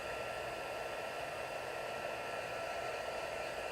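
A heat tool blows a steady, close whooshing hiss while melting embossing powder, continuous and even throughout with no voices.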